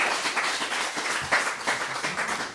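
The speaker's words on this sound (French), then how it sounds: "on peut applaudir Coralie" An evening audience applauds a guest speaker at an event, giving a steady spread of clapping that fills the space for a couple of seconds with no talk over it.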